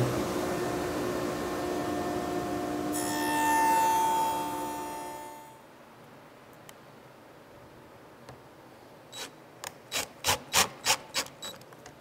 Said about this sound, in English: the last cut that I'm going to make while I have this set up is I want to rabbet the top of the back fence